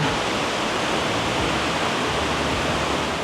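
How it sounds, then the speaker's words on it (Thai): Heavy rain pours down on a third-floor open-air parking deck at Impact Muang Thong Thani, a loud, steady, unbroken hiss with no talking. "ฝนตกครับพี่น้อง"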